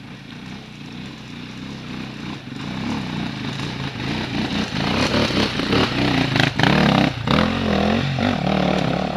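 A motorcycle engine revs repeatedly and climbs in pitch nearby, the wheel spinning as the throttle is held open, rough bursts growing louder toward the end.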